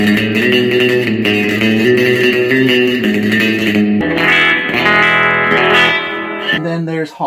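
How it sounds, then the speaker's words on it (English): Electric guitar played through the spring reverb model of a Yamaha THR5 practice modelling amp, a continuous run of sustained chords and notes with a washy, echoing tail, loud and close, fading briefly near the end. "And then you move into spring reverb."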